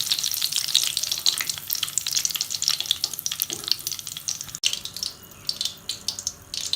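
Green chillies deep frying in hot oil for a tindora 65 dish, a steady dense crackling sizzle that runs close and loud throughout, easing slightly toward the end.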